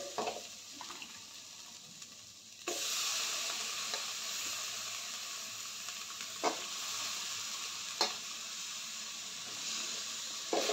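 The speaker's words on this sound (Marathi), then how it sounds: "त्यानंतर आपण चिरून ठेवलेल्या वांग्याच्या फोडी घालते मी यामध्ये." Chopped brinjal pieces dropped into a hot pan with turmeric: quiet sizzling jumps to a loud, steady hiss as they go in, with a few sharp clinks and scrapes of stirring, close up.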